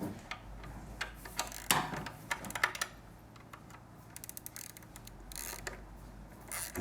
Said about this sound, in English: Using a 12mm socket and a wrench, you want to hold the nut in the back here.